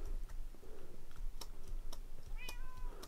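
Cat meowing in Minecraft, a short high mew near the end over sharp keyboard typing clicks and faint background noise.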